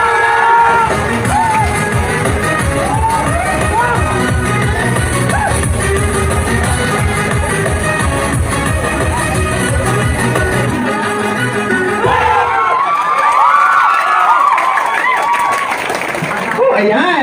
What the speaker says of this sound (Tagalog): Sabay natin sigaw na.